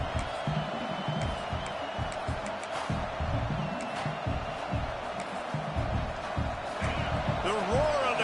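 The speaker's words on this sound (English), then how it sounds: "The roar of the crowd trying to fuel this defense to keep them pinned in their own end" Stadium crowd roars steadily through a college football video game, a dense continuous wash of cheering with scattered whoops and thuds, heard under a commentator's talk.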